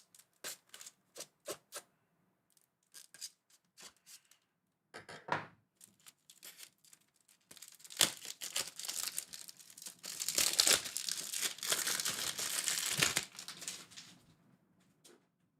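A knife cuts open a cardboard box of camera gear, starting with scattered light taps and scrapes. It builds into a long, louder stretch of ripping and crinkling cardboard, then fades out.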